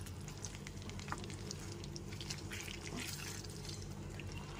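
Potato and pointed gourd pieces fry quietly in a pan over a medium flame for a Bengali vegetarian korma, giving a faint, even sizzle with light crackles.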